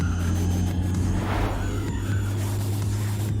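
A racing car engine in the video game Need for Speed ProStreet drones loudly with a steady tonal hum, rising briefly in a revving sweep, with tire noise underneath.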